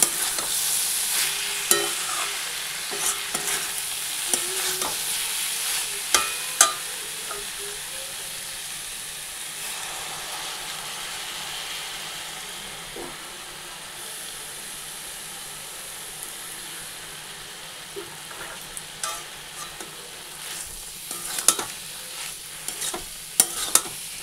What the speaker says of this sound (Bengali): এবারে মশলা দিয়ে সাঁতলিয়ে তারপরে জল দিয়ে দিব